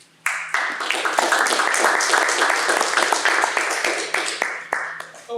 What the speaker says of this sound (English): A wonderful round of applause